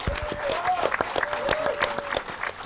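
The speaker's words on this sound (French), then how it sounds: "Tonnerre d'applaudissements." A studio audience breaks into applause for a finalist on a televised amateur cooking competition, a dense burst of clapping with crowd noise and a host's voice over it.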